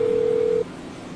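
A single steady electronic phone tone in the GTA 5 video game sounds for about half a second, then cuts off, leaving a quiet background.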